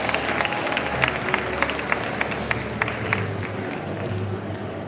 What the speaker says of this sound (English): Let's give Miss Sonia a huge round of applause.